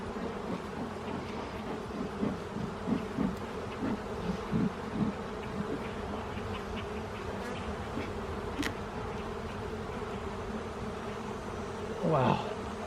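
Honey bees buzz steadily around an open brood box during a hive inspection, a dense continuous hum with individual bees flying close past the microphone, the loudest pass near the end.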